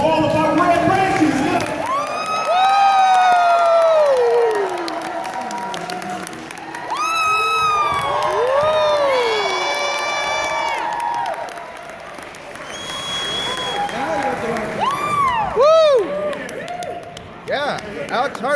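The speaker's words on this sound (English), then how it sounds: "Clap your hands, stomp your feet, make some noise for all of our Red Rangers." Convention crowd at a Power Rangers panel cheering, whooping and clapping loudly, swelling in repeated waves of applause with shouts and whistles, an announcer's amplified voice mixed in.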